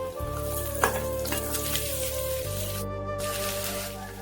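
Chopped onions and green chillies sizzle and fry steadily in a hot pan for onion-tomato thokku, a constant crackling hiss with a low background hum and a brief clatter partway through.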